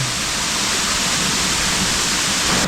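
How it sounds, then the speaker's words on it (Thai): A forest waterfall in the rain roars as a loud, unbroken wash of rushing water, close and steady throughout, with no voices. "เป็นน้ำตกที่อยู่กลางป่า"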